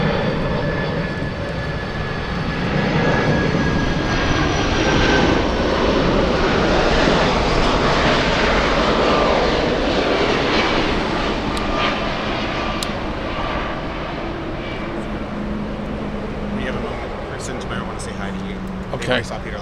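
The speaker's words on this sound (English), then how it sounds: "We have a queen coming in. Lufthansa 493 flying in from Vancouver." A Lufthansa airliner arriving from Vancouver approaches Frankfurt airport, its engines roaring steadily and loudly for a long stretch while people talk over the noise.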